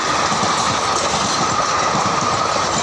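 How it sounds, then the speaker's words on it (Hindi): A train on railway tracks beside a main road in Tamil Nadu, giving a steady, loud, broadband rumble with faint rhythmic clatter throughout and no voices. "यहाँ ट्रेन आ चुका है"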